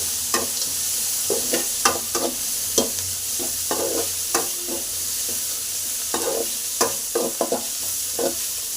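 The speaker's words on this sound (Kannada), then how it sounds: "ಕಡಲೆ ಬೀಜ ಹುರ್ಗಡ್ಲೆ ಹಾಕಿ ಫ್ರೈನ ಮಾಡ್ಕೋಬೇಕು." Peanuts and roasted gram frying in a pan while being stirred: a continuous hiss of sizzling oil under a steady series of scraping, rattling strokes from the spatula, close and fairly loud, with no voices.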